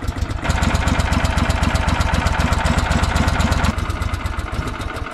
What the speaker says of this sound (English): It's starting rough. I'm no expert, but that looks like my choke is messed up.